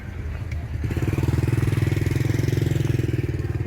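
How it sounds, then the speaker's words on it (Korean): A motorcycle engine chugs close by in street traffic with a steady, rapid throbbing pulse after a brief quieter start, loud and alone without clear talk. "차들이 요새 이렇게 많아졌어요 차들이 어, 오토바이 차 뭐"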